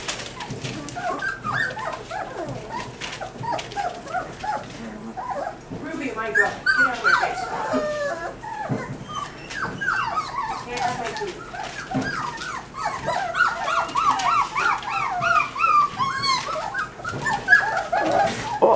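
Several young puppies whimper and yip in short, high, irregular bursts throughout, close by and fairly loud, with people talking softly among them.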